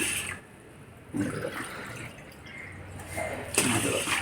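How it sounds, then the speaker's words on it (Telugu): Water gushes and splashes as it is poured into a pressure cooker for making halva, a rushing liquid sound that swells and eases in a couple of surges, fairly close. "మూడు గ్లాసులు నీళ్లు పోసి కుక్కర్లోను ఓ నాలుగు విజిల్స్ వేనిస్తే"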